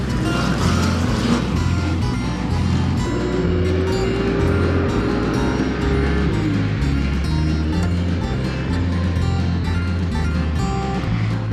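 Ice stock cars racing on studded ice tires, a continuous loud roar of engines with rising and falling revs as cars pass, dense and close throughout.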